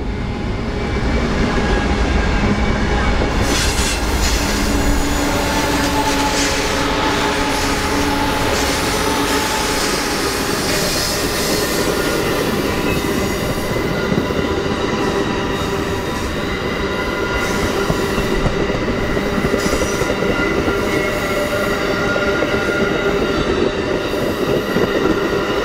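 An Amtrak passenger train hauled by Siemens Charger locomotives rolls past at Kyoto Siding on Raton Pass. A loud, continuous rumble of wheels and engines carries on with rail squeal and clatter, up close and with no voices.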